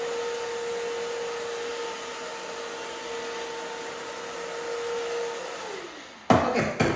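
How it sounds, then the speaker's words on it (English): A hair dryer fitted with a diffuser dries curly hair with a steady close whirring hum that runs evenly, then cuts off near the end and gives way to a few brief handling knocks. "If you have a diffuser on, you like push it up and let it stay and it just kind of dries it."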